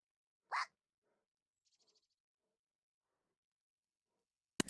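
Short dog-bark imitations from people in a group, one loud bark-like call followed by several faint, scattered vocal yips and woofs spaced apart, ending in a sudden loud burst.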